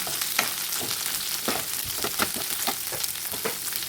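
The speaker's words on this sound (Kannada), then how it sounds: "ಇದಕ್ಕೆ 2 ನಿಮಿಷ ಫ್ರೈ ಆಗೋದಕ್ಕೆ ಬಿಡೋಣ" Cut brinjal frying in a pan gives a steady close sizzle, with rapid scraping and tapping strokes of a stirring spoon repeating through it.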